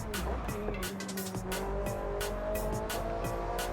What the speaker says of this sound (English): Pop a little bit of a drift through there